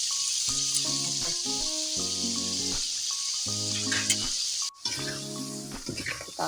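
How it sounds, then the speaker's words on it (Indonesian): Tomato and anchovy sambal frying in a pan and being stirred, giving a steady, close sizzle with scraping stir sounds and a short break near the end. "Kita aduk dulu sebentar"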